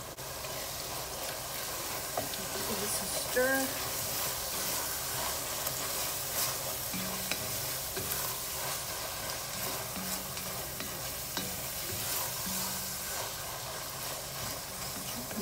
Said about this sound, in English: Garlic going in.